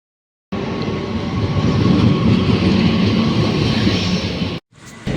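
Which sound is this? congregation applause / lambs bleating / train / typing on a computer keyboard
train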